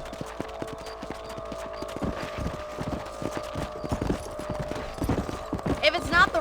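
Horse hooves in Red Dead Redemption clip-clop in a steady, close rhythm while riding, with game voices talking over the gait and a brief whinny near the end.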